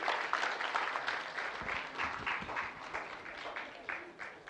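An audience at a millets week finale event in Kuwait applauds a poster competition winner, a modest, uneven round of clapping heard at moderate distance, swelling and fading over a few seconds.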